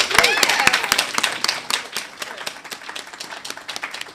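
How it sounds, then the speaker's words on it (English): Applause breaks out in a lecture hall, a smaller group clapping loudly at first, then thinning and fading, with voices heard faintly among the claps. "Could we give her a round of applause?"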